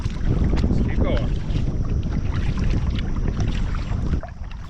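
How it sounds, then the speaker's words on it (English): Wind buffets the microphone steadily while kayaking down the Lower Wisconsin River, a loud continuous rushing roar mixed with faint water splashes that drops off near the end. "this wind in my face right away this morning"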